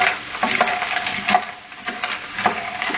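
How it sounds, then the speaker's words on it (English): Roughly 400 to 500 grams of shrimp stirred in a hot pan for enchiladas, with a soft sizzle under irregular scraping and clattering strokes of a utensil. "Then you just stir it."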